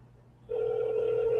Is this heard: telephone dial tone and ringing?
yes